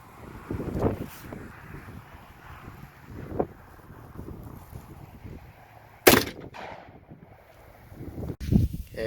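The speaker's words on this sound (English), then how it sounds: "here's our shot with the 4570 extreme penetrator" A .45-70 rifle firing a 325-grain extreme penetrator round into a rubber stable mat: one sharp, loud outdoor report near the middle, with a second loud burst toward the end over steady wind noise.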